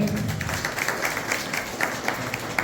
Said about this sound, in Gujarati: ભૂપેન્દ્રભાઈ બ્રહ્મભટ્ટનું સન્માન મિત્રો તાળીઓથી બધાઈ દઈશું